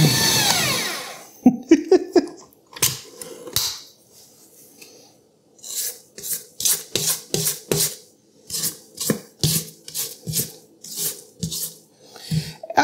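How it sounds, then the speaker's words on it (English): A Zacme 5.5-quart planetary stand mixer running close by, its beater churning out a steady series of rhythmic, raspy scraping bursts that pulse along with the mixing. "stand mixers make the certain sound when that planetary gets going"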